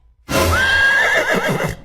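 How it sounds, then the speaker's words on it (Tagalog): A single loud, close horse neigh rises sharply and whinnies for over a second before trailing off, with no talk over it. "Oh, kabayo."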